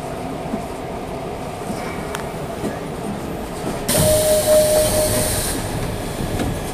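A Nishitetsu 6000 series express train runs with a steady rumble and rattle of wheels on rail, joined partway by a sudden brighter, louder hiss and a sustained squealing whine before settling back.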